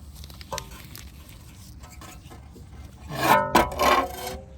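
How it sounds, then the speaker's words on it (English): Small flathead screwdriver rubbing lubricant around inside a brake caliper on a 2012-2016 BMW 328i during a rear pad and rotor job, soft scraping and rubbing close by, louder toward the end. "get a little bit of the lubricant on a small flathead and get inside here and just rub that around a little bit"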